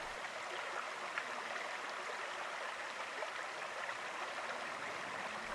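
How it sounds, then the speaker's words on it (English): A small mountain stream, the Middle Fork of the Williams Fork River in Colorado, runs over its bed in a quiet, steady babbling flow with soft gurgles, heard alone and at a modest distance. "The Middle Fork of the Williams Fork River is a small stream that is full of little brook trout."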